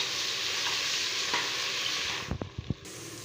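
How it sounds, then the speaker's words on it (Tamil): Onion, garlic, chillies and curry leaves sauté in hot oil with a steady close sizzle, and near the end a few sharp clinks of a spoon stirring the pan. "இந்த அளவுக்கு வெங்காயம் பூண்டு எல்லாமே நல்லா வதக்கிக்கோங்க."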